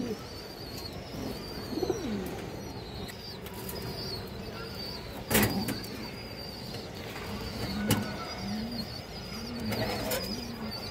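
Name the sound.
pigeons cooing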